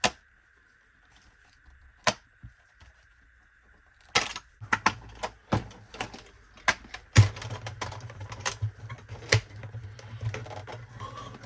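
Quick release clamps on a workshop tool click open one by one. Sharp, close clicks and snaps come sparsely at first, then more rapidly against a faint background hum.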